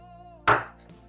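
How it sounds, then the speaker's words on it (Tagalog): A knife slices thinly through ginger and garlic, giving one crisp, close chop against a board in an otherwise quiet moment. "Bali yung luya, yung bawang, gayatin natin ng ganito."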